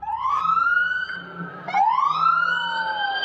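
A loud wailing police siren rises and falls twice, close by, with engine rumble underneath as the police car passes.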